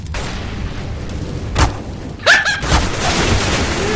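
A fire grenade thrown during a team tactical shooter match: one sharp thump, then a brief whooshing burst with a rising tone, followed by a sustained rumbling roar of flames.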